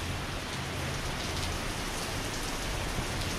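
Steady rain pours down on a street outside, a dense, even hiss of drops striking the pavement that fills the whole stretch without a break and with no voices.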